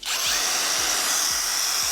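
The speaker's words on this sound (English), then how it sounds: "The favorite sound of every car salesman is the sound of that drill." A power drill removing license plates from a car at a dealership, whirring continuously at close range, its high motor whine steady, with periodic low thumps roughly every half second.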